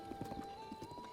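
Horse hooves clip-clop in a quick, faint run of several beats in Zelda: Breath of the Wild, with a steady tonal game background underneath.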